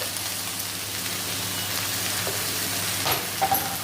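Chopped Takla greens frying in a kadai give a dense, even hiss close by, holding steady throughout with a couple of faint clinks near the end.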